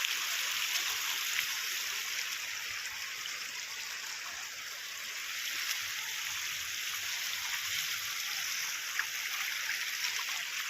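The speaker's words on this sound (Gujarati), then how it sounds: "બહુ પાણી આવ્યું છે।" Water flowing into a flooded farm field, a faint, steady trickling rush like a small stream, constant and distant-sounding with no voices.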